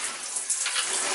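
A short, steady hiss of water sprayed directly onto the nylon of a First Tactical Tactix 1-Day Plus backpack during a rain-resistance test, close and continuous.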